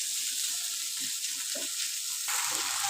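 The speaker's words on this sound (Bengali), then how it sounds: "টমেটো মশলার সাথে ভালো মতো কষিয়ে নেব।" Chopped tomatoes with salt sautéing in spices in a pan, giving a steady close sizzle and fry hiss with a few soft stirring scrapes, no voices.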